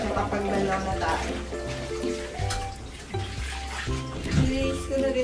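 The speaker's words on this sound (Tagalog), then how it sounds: "Lagyan ko na siya ng tubig." Tap water steadily filling a bathtub for washing clothes by hand, a continuous running pour heard throughout beneath someone talking and background music.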